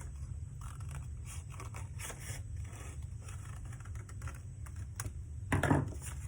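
Scissors cutting along a drawn line through folded paper, a run of soft, close snips and scrapes in uneven rhythm over a low steady hum, with a louder crunchy cut near the end.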